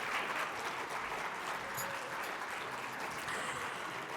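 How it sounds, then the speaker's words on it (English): A conference audience gives a round of applause for the speaker Sophia Mavridi, a dense, even wash of clapping sustained throughout at moderate distance. "applause"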